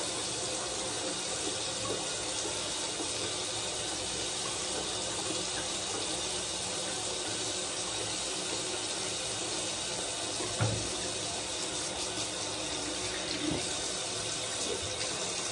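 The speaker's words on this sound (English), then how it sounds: "We're gonna run some hot water. We're gonna run a bit cold with it." Hot and cold water running from a tap into a sink, a steady, dense rushing stream lasting the whole stretch with only small bumps, close and fairly loud, no talking.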